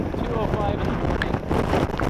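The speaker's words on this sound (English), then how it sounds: "Wind's been changing direction" Hurricane Laura's winds near the eye wall in the early-morning hours roar loud and continuous against the microphone, a dense buffeting rush with no break.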